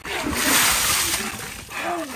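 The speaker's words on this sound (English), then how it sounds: "we're just going to pour this bucket in his head" A bucket of cold water is poured over a man's head outdoors, a sustained loud splash and rush of falling water lasting about two seconds, with faint voices around it.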